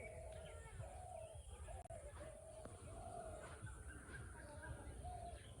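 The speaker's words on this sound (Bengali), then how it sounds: "কত রকমের যে পাখির ডাক" Birds call on a rural village morning after rain, doves among them. Repeated cooing phrases come at a steady pace over a faint, continuous outdoor background.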